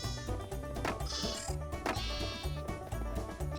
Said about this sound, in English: We'll keep breeding these sheep up, and in no time we'll have a steady supply of wool blocks and carpet.